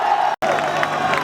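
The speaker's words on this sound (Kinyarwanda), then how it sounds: "Mwumva amashyi yanyu wese" Audience applause and cheering at a public address before Burundi's President Evariste Ndayishimiye, a steady dense wash of clapping with crowd noise that fills the clip except for a brief dropout near the start.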